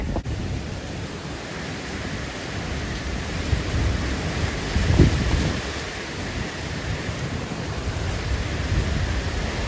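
A roaring hurricane storm fills the scene with steady broadband wind and rain noise, a dense continuous rush with a brief deeper swell midway.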